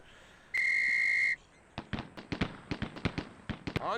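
A single sharp, steady whistle blast lasting under a second signals the start of a shooting drill in the Police Quest SWAT game, followed by a quick string of loud gunshots at a range.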